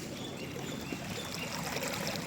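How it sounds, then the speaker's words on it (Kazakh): Strong water stream rushing through a divided channel along a city alley in Taraz, a steady close, even gushing flow with no talk. "Мұны қандай керемет ағыс. Сұмдық ағып жатыр."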